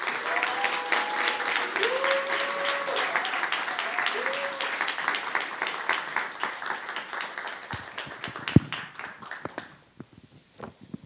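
Dense, steady applause from a church audience welcoming a pastor at a camp for associate ministers, continuous for several seconds before thinning out and fading, with a few sharper claps near the end.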